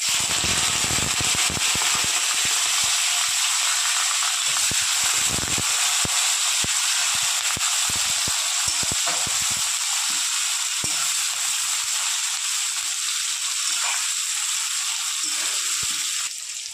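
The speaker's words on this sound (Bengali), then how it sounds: "পেঁয়াজ ভাজা ভাজা হয়ে গেছে হালকা" Chopped onion and green chili fry in hot oil, a bright continuous sizzle and hiss running the whole time with occasional pops and light rattles, fairly loud and close.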